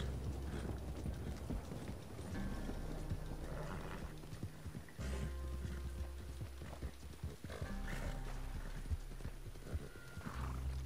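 Horse hooves clop in a steady, quiet rhythm in the video game Red Dead Redemption 2 Online, over a low background hum, with faint mechanical clicks scattered throughout.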